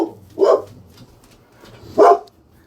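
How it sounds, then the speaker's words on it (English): A dog barks twice, loud and close, with a gap of about a second and a half between the barks, in a quiet room with no talking. "Sorry about that, guys. It's just my dog."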